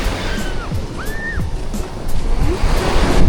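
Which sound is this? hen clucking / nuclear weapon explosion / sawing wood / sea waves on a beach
sea waves on a beach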